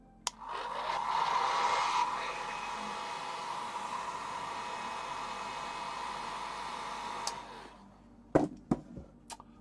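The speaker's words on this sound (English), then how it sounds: "I'll give it a little blast of a hairdryer just to speed it on its way." A hair dryer blasts steadily onto a hobby model for about seven seconds, then shuts off, leaving a few sharp clicks and knocks close by.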